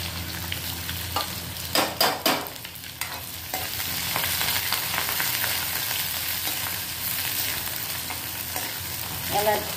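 Onion frying in a hot pan with curry leaves, a soft steady sizzle broken early by a few clanking stirs of a spoon, then continuing quietly with occasional scraping.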